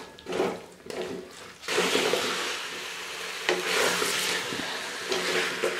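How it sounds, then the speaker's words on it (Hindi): Potatoes with fenugreek stirred and fried in a pan, a steady close hiss of frying broken by scraping spoon strokes, loud and continuous with no talking. "चम्मच चलाते हुए मैं इसकी तकरीबन 3 से 4 मिनट तक भुनाई करूंगी"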